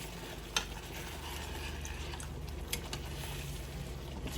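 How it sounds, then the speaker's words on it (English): Vegetable gravy being stirred in a pot for an Ital vegetable medley, a quiet, steady scraping and swirling with a couple of faint knocks against the pot. "Definitely want to keep stirring on this."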